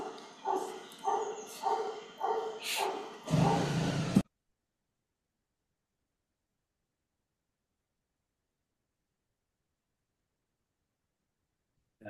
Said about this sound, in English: Motorbike and dogs all of a sudden.